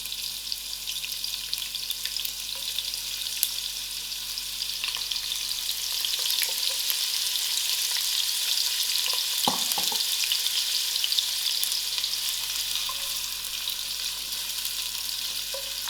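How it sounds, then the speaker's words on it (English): Onions frying in heated oil and margarine for samp and beans give a steady, close hiss of sizzling with a few louder stirring scrapes partway through, no voices. "I'll give the onions a few seconds till it gets soft"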